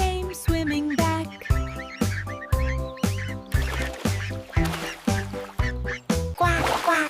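Ducks quacking in rhythmic, musical bursts within a children's sing-along song about five little ducks, loud repeated quacks in a regular beat with tonal backing.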